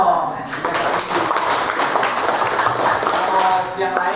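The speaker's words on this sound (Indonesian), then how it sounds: "Tepuk tangan dong." Students clapping together in a classroom, a steady dense patter of many hands that starts sharply and carries at even loudness throughout, with voices faintly mixed in underneath.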